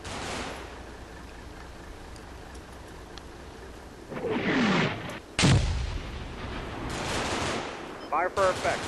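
Distant artillery-style area fire and scattered gunfire in the World War II strategy game Combat Mission Market Garden, a low steady rumble building to several heavy booming blasts and sharp cracks toward the end.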